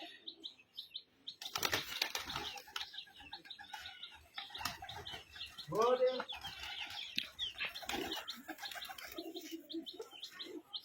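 A pigeon's wings flap in quick bursts as it tumbles down from a tin roof, mixed with chirps and other birds in the background and a voice talking.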